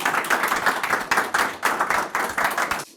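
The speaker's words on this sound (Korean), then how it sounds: "뜨거운 박수로 환영해 주십시오." Audience applause welcoming a lecturer at a talk, heard as bursts of rhythmic clapping from a modest crowd, fairly close and lively across a few seconds.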